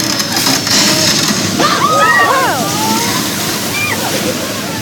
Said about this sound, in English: I did warn you guys, there would be water effects today.